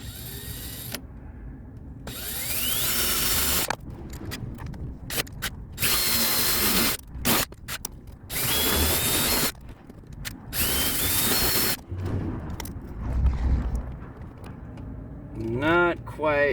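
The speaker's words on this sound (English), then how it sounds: "now that we've punched the smaller holes, we can use a larger bit and kind of clear it out" A drill fitted with a larger bit clears out previously punched holes in short bursts, whirring and catching with rough ratcheting bites between pauses, while people talk nearby.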